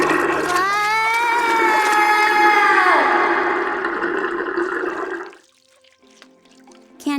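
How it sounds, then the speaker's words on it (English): Bathtub water drains away in a loud, swirling gurgle with sliding whistle-like tones that lasts about five seconds, then cuts off into near silence. "I was afraid to be in the tub when the water let out."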